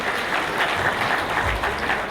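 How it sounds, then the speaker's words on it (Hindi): A crowd at a company recognition event gives loud, steady applause, many hands clapping continuously and close throughout. "जोरदार तालियों में सर।"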